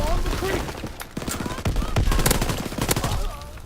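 FG-42 rifle fire in Call of Duty WWII multiplayer comes as rapid bursts of loud, close gunshots, with a brief pause in the middle and a voice faintly audible underneath.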